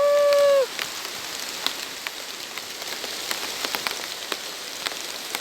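A brief high tone fades out, then rain patters steadily on a surface with scattered louder drops, no voices.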